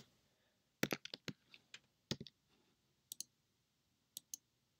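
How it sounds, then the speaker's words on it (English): Crisp, close computer mouse clicks while playing a Minecraft-style game, arriving in quick irregular clusters of two to four with short silent gaps, alone and with no talking. "I left click on it."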